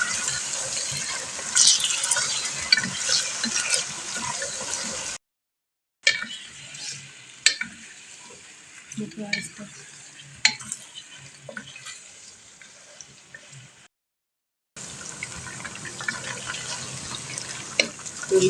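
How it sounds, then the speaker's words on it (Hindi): Chicken sizzling and frying in a pan while being stirred for chicken pulao, a steady close hiss broken by spoon scrapes and clatter, with two brief dropouts and no talking. "तो ये चिकन भी हमारा अच्छा सा फ्राई हो गया है।"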